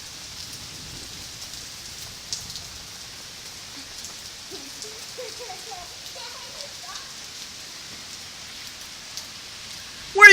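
Steady outdoor rainfall hisses evenly throughout while children play in the rain with umbrellas, their faint voices and chatter occasionally audible in the background.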